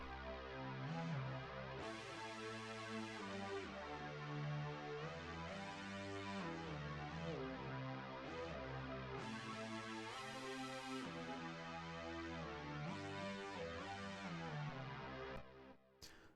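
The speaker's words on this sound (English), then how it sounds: "I use the Asian lead preset for this first one" A bright synthesizer lead, the Asian lead preset with no effects, plays a melodic line of sustained notes over a low bass pattern, dry and clear, with no voices.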